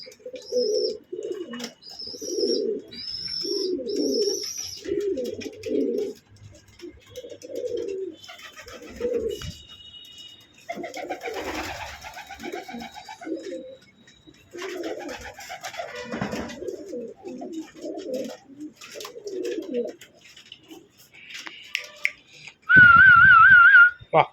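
Pigeons kept for sale, including fancy breeds, coo in repeated soft throaty bursts with scattered chirps, close and clear, ending in a sudden loud whistling tone.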